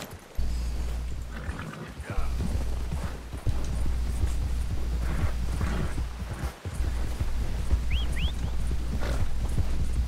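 Steady clip-clop of horse hooves walking at an even pace in the video game Red Dead Redemption 2, close and prominent over a low constant hum, with a couple of brief high chirps.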